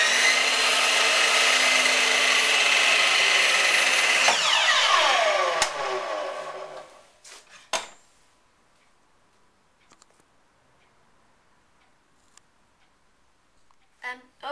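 A power tool angles off the roof of a wooden bird box, cutting loudly and steadily for several seconds before winding down into quiet, with a few faint knocks afterward.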